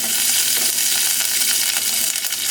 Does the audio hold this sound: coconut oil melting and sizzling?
yes